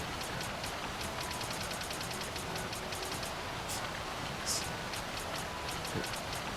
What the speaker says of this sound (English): it's raining here in real life and it sounds so beautiful